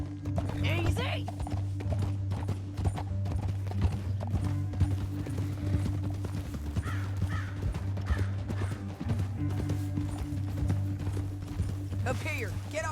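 Horses gallop in Red Dead Redemption 2, a dense, steady clip-clop of hooves with brief whinnies and a low music drone, heard close over nearly thirteen seconds.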